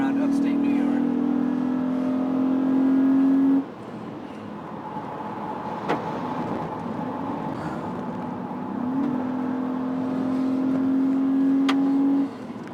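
A Honda IndyCar safety car with custom brakes, tires and suspension work laps Watkins Glen in upstate New York, its engine droning loudly from inside the cabin, dropping as it lifts and rising again under ongoing conversation.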